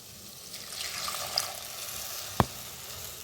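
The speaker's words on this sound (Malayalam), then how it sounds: "നമുക്കിതിലേക്ക് ഒന്ന് ശേഷം പുളിവെള്ളം ചേർത്ത് കൊടുക്കാം" Tamarind water poured into a simmering chilli curry, a soft sizzling and liquid splash building gently, then a single sharp clink of a utensil against the pot near the end.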